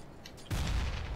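A grenade in Counter-Strike: Global Offensive going off as a sudden dull boom after a quiet moment, with a heavy low rumble that carries to the end.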